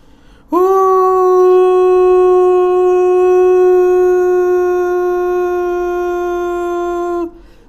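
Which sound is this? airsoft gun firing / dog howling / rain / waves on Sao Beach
dog howling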